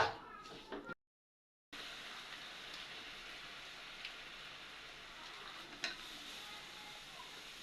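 Sugar stirred and fried in a pan, a faint, soft sizzle with occasional light spoon scrapes, briefly cut to silence near the start.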